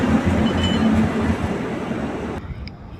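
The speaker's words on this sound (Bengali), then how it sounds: "একটু পরেই দেখা গেল ট্রেনটি কোরাপুট স্টেশনে ঢুকছে" An intercity express train at Koraput station gives off a loud, deep rolling rumble with rhythmic rail clatter, then cuts off abruptly into quieter surroundings.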